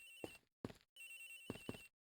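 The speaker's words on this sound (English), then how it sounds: "Agent Hicks' phone! It's ringing from somewhere, sir!" A telephone rings in the detective game Ace Attorney Investigations, several short electronic trills in bursts with brief gaps, sounding somewhat distant.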